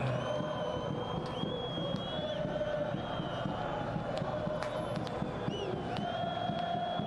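Wydad supporters at a football match in Algeria against USM Alger, a thick crowd of chanting and cheering that fills the stands continuously, with faint whistles and scattered sharp bangs rising above the roar.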